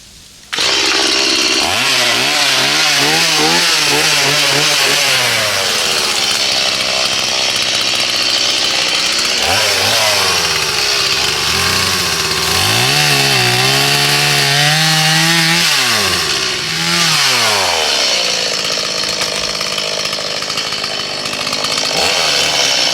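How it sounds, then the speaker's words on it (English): A chainsaw fires up and runs loud and close on a farm with sheep, its engine revving up and down repeatedly in rising and falling whines over a steady roar, with no talking. "whenever I started that chainsaw up"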